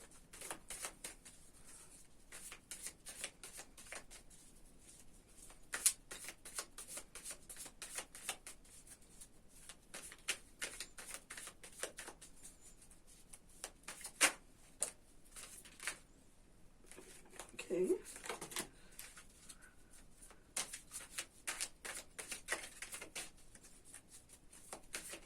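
Tarot cards are shuffled by hand in repeated crisp bursts of riffling and slapping, close and fairly quiet, with brief pauses between handfuls over a soft room background.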